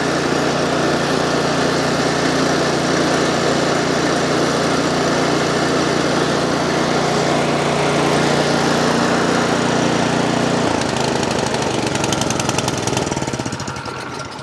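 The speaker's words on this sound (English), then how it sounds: "Okay, congratulations, we just got the snowblower running." A Cub Cadet snow blower engine runs loud and close at a steady, rough drone, then its tone shifts and thins near the end as it settles, with no talking over it.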